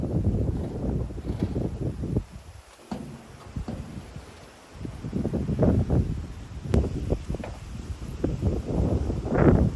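Strong wind gusting outdoors in Lapland beside a small cabin where a campfire burns, roaring and buffeting the microphone in loud irregular surges with a brief lull midway.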